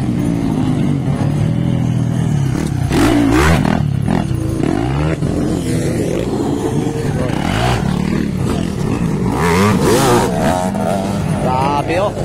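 Motocross motorcycles in a ladies' final race, around 85cc or 150cc, rev and roar continuously nearby, their engine pitch rising and falling through gear changes, with a commentator talking over the noise.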